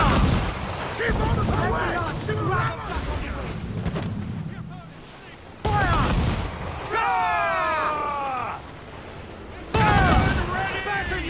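Ship cannons boom in a sea battle in the video game Assassin's Creed Black Flag, heavy blasts in several bursts over wind and rushing water, with shouted crew orders between the volleys.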